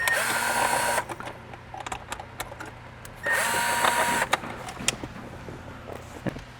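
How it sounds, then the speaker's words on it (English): A power screwdriver whirring out Phillips screws from a Lexus LC 500 interior panel, in two buzzing bursts of about a second each separated by small clicks and handling taps, close and fairly quiet. "So we're gonna remove these Phillips screws."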